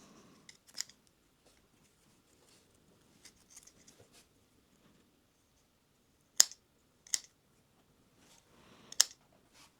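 Budget ROCKTOL GEN-R 27-in-1 multitool scissors cut through paracord in a few sharp, crisp snips, spaced apart, with quiet handling noise between them.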